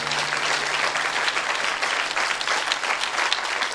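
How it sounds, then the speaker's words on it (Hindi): A church congregation applauds with steady, dense clapping throughout, close and loud with no pauses. "आइए तालियां बजाइए इन लोगों के लिए।"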